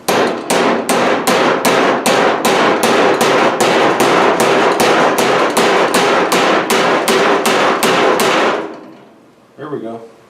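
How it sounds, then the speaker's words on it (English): Rapid, steady hammer blows ring out against the metal door skin of an El Camino being hemmed without a dolly, about twenty sharp, evenly spaced strikes close up and loud, then a brief pause and a quieter knock. "I may just take the hammer and do it without the dolly so I can pinch it."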